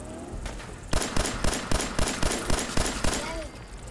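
Rapid bursts of gunfire from a companion firing in Fallout 4, about a dozen sharp evenly spaced shots in a steady rhythm, loud and close over a faint background.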